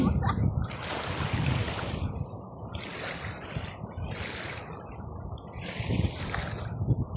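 Strong waves at the Kuwait City seaside surge and wash in a loud, steady roar, with heavier bursts near the start and end, voices faintly mixed in.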